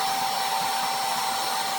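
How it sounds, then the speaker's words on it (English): A Hyde vacuum drywall sander with a drywall filter runs with a steady, whooshing motor drone and high whine, continuously and evenly, close up, with no pauses or talk. "Vacuum sander from Hyde. Actually works really good."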